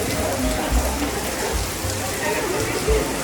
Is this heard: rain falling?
yes